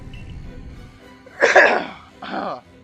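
Two short, harsh coughs or throat clears from a person with COVID, a second apart, close to the microphone after a quiet stretch with low background noise.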